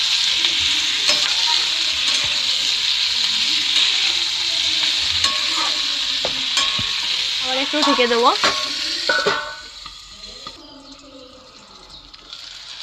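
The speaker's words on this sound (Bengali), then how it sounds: "আমি কিন্তু বারবার ঢাকনা খুলেছি নেড়েছি এরকমভাবে তিন মিনিট মতন ভেজে নেবেন" Flat beans and potatoes with turmeric and salt frying in a pan while being stirred, a loud continuous sizzle broken by scraping strokes and a clatter before the sizzle drops sharply as a lid goes on; a voice speaks briefly.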